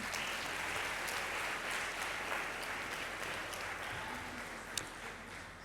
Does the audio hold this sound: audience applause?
yes